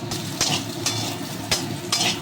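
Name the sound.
potatoes frying in oil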